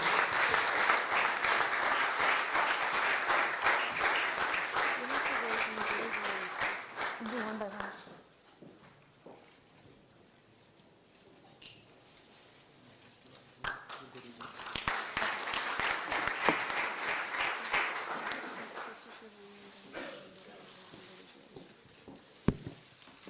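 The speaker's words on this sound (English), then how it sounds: "I think we should all give them one big round of applause" Enthusiastic applause from a large crowd fills the room at an International Day of Yoga award ceremony in London, fading briefly before a second burst of clapping rises again, with voices heard in between.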